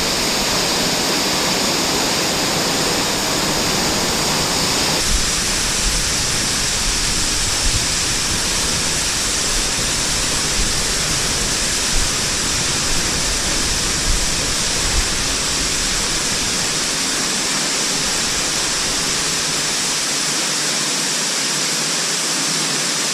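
A cave waterfall roars with water gushing steadily, a loud, dense, unbroken rush that fills the whole space from start to finish with no voices.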